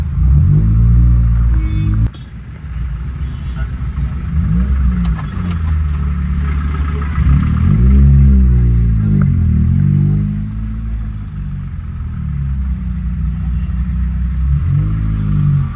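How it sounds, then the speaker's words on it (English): Night traffic in Bangalore heard from inside a moving car: a loud, continuous low engine rumble that swells and eases as the car accelerates and slows, with occasional clatter and no talk. "This is Bangalore traffic"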